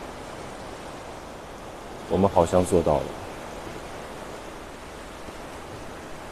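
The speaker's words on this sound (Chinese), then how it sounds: "想跟大家一起听一听大海的声音" Ocean waves at the seashore wash in a steady, broad hiss throughout, with a brief burst of voices talking near the middle.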